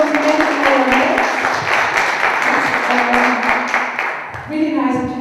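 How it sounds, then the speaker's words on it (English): An audience at a public debate on the inclusion of African youth breaks into loud, continuous applause for the panel members, dense close clapping holding steady for several seconds before thinning slightly at the end. "So a big applause that you are here."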